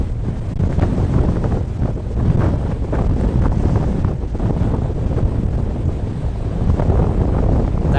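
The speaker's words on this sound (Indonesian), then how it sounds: "Ya, ini sudah mulai naik untuk ombaknya ya Wan" Strong wind and heavy waves pound a ship's hull during extreme weather on the Java Sea, a loud, continuous roar with rushing water surges and wind buffeting the microphone throughout.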